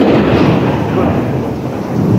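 Heavy rain pours down steadily during a storm, a dense continuous roar with low rumbling thunder beneath it, loud and close throughout.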